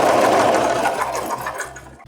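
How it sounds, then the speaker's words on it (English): A sewing machine stitches a Wednesday Addams cosplay dress in a quick whirring run with brief pauses, close and alone, slowing toward the end. "now I have just to sew this thing and put some buttons up here"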